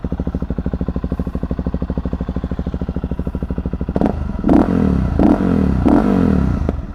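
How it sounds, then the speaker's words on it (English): A Suzuki DRZ400SM motorcycle with aftermarket exhaust and tune idles with a steady, rapid thump, then blips loudly several times in quick succession, close and unaccompanied. "This bike sounds so good with the exhaust and tune on it."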